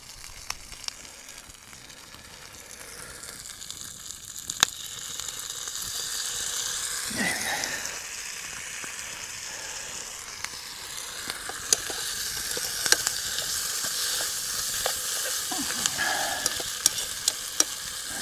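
Food frying in a non-stick Fire Maple camping pan and being stirred with a metal utensil: a continuous close sizzle with scraping strokes and occasional sharp clinks, getting louder partway through.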